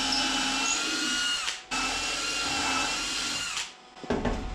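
A power drill drives screws into a wooden bar, two long steady whirring runs, each winding down and stopping, then a short clatter at the end, close and clear with no talk.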